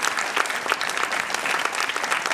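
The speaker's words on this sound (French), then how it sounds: "Merci de les applaudir." Sustained, lively clapping from an audience gathered for the inauguration of the Sainte-Ursule school gymnasium, a crowd of many hands applauding evenly at moderate loudness with no pause.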